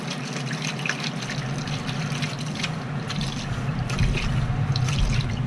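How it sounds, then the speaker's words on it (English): Water rinsing and backflowing through a beer brewing plate chiller in a home electric brewing setup, a steady close gush and splash that swells louder near the end. "So first of all I rinse it out. Just backflow it both ways."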